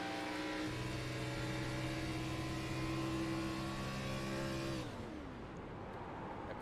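A race car engine, heard from onboard, holds a loud, sustained high-rpm whine, then suddenly drops off and winds down near the end as the throttle lifts.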